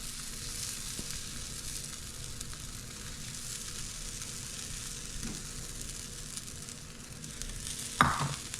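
Takoyaki batter with pieces of octopus sizzles in a pan with a steady, soft crackling hiss throughout. A brief clink sounds near the end, and no one speaks.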